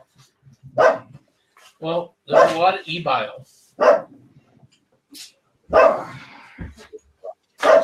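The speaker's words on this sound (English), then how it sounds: "your barking is helping" A dog named Riah barks several times in a room, short close yips and woofs scattered among a man's speech.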